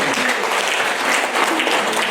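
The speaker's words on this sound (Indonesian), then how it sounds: "Tepuk tangan untuk kalian." A crowd applauds steadily, dense clapping filling the whole stretch at a loud, even level.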